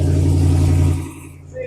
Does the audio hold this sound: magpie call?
no